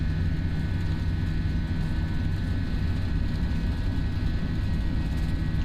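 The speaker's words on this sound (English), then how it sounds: "I really love the FSLabs engine sound." Steady A320 jet engine roar from a flight simulator, with a high whine on top, constant and loud throughout, no voices.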